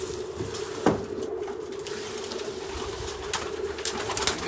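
Racing pigeons cooing in a pigeon loft, a steady low murmur of overlapping coos close by, with occasional soft patter and wing movement throughout.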